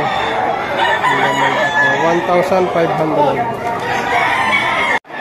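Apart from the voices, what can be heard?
roosters crowing at a chicken market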